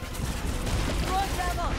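Rapid gunfire crackles in the Harry Potter and the Deathly Hallows Part 2 video game, a dense run of shots over rumbling game sound, with a voice talking over it.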